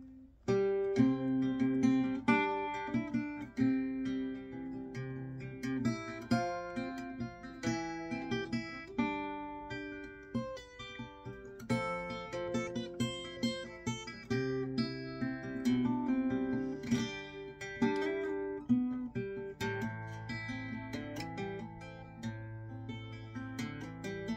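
A solo acoustic guitar picks out a melody fingerstyle over plucked bass notes, steady and close, with small ornamental flourishes and no voices.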